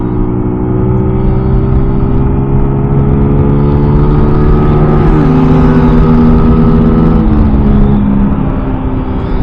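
A Kawasaki Z900 motorcycle fitted with an Exil exhaust hums along at steady cruising revs, its engine note loud and close, with a brief rise in pitch partway through.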